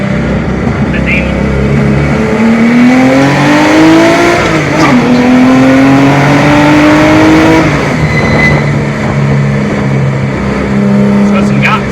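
Race car on a test drive, its engine loud and close as it revs up in rising sweeps, drops back and climbs again, with someone talking over the engine throughout.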